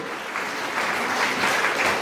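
A crowd claps steadily at a church gathering, a dense wash of applause that swells slightly toward the end, with no talking over it.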